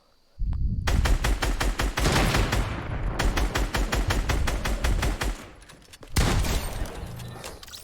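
Rapid automatic gunfire from a video game shooter match, long sustained bursts of closely spaced shots, loud and close, with a brief pause before a final burst that trails off.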